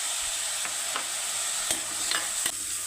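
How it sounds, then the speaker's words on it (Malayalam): Sliced onions sautéing in a hot pan for Kerala prawn theeyal, a steady broadband sizzle with several sharp scrapes of a spatula against the pan spaced through the stretch, close and fairly loud with no voices. "നമുക്കിതിൽ ആ സവാളയും കൂടി ഇടാം."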